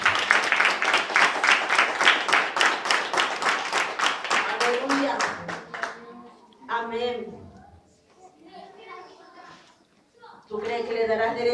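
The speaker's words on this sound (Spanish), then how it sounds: "Den un aplauso al Señor." A church congregation claps together in a steady, rhythmic beat for several seconds, the claps loud and evenly spaced before fading, followed by a preacher's voice speaking alone.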